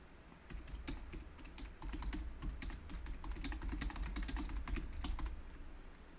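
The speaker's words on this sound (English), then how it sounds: "I'm just going to type." Steady, fast typing on a computer keyboard, a dense stream of close clicking keystrokes over a low background hum, with no voices.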